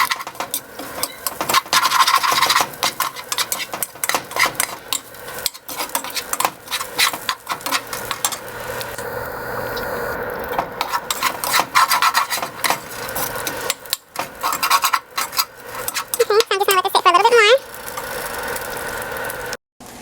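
Seasonings including garlic powder are stirred together in a bowl, giving continuous scraping, rasping rubs of close utensil strokes with short pauses and no talk.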